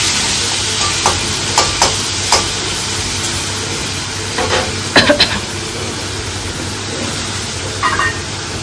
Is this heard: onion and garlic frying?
yes